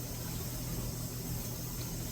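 Water poured from a measuring container, a little over a liter, onto dry grain spawn material for mushroom growing; a steady, close, continuous pouring and filling wash with low hum underneath, no talk.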